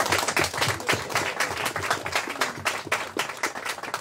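Guests at a traditional Ghanaian marriage ceremony in Cape Coast applaud together, a dense, continuous burst of clapping close by, with some cheering mixed in.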